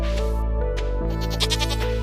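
A farm goat in the Stardew Valley video game bleats in a short, close, fairly loud call that wavers over about two seconds, with no talk.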